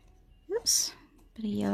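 A short, crisp snip of scissors cutting through yellow paper, heard up close, with a quick scraping lead-in. A voice starts speaking right after the cut.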